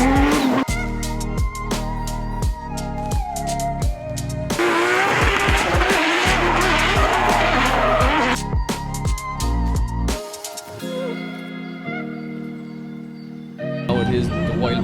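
Drift cars at round 3 of the Irish Drift Series 2025 scream past with loud engine revs, rapid rev-limiter bursts and sustained tire squeal and skidding, with a commentator speaking over the noise.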